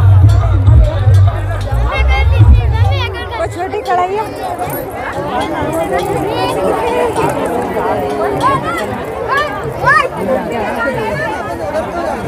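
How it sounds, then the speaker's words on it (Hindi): Dense crowd chatter and hubbub fill a busy village fair during Chhath puja celebrations at the Madhai mela, with many overlapping voices nearby and a low rumble at the start; people talk throughout. "काफ़ी भीड़ है फ्रेंड यहाँ पर देखिए"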